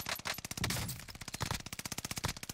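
Rapid automatic gunfire in a battle royale shooter game, a fast, evenly spaced burst of loud shots that fills the whole moment without speech.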